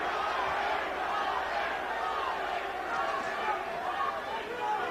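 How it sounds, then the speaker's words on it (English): Boxing arena crowd at the 1992 Holyfield v Holmes fight chanting "Larry" for Larry Holmes in the 11th round, a dense, loud, continuous roar of many voices filling the whole stretch. "The crowd again starts the Larry chant"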